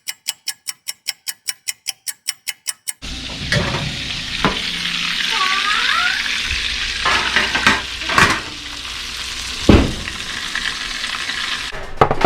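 Burger meat frying in a pan, a steady loud sizzle with stirring scrapes and a few sharp clatters, preceded by about three seconds of rapid regular ticking.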